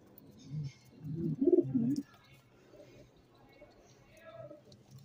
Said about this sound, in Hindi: ये कबूतर जो मेरे 24 घंटे खुले जाते हैं